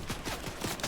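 Rapid bursts of gunfire from the video game Fortnite crackle in a dense, close flurry of several quick shots, with no talk over it.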